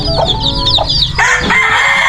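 Pet backyard chickens kept alongside ducks and turkeys cluck and crow loudly and close, a rapid series of sharp calls followed by a sustained crow-like cry, with no talk.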